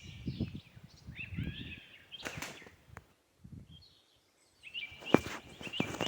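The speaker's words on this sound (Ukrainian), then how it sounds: "Отак ходиш по лісу, слухаєш щебет пташок." Birds chirp and tweet intermittently in a forest, with scattered high calls drifting between footsteps and rustling undergrowth as someone walks along, the sounds moderately close and fairly faint.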